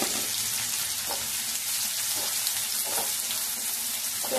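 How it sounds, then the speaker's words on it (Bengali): Chopped onion frying in refined oil in a wok, giving a constant, even sizzling hiss nearby and soft stirring thumps now and then. "পেঁয়াজটা একটু ভেজে নেব।"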